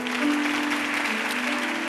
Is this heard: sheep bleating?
no